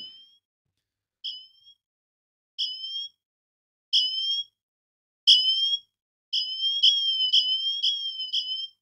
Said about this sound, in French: D'ailleurs, cette alarme, je vais vous la faire écouter très rapidement.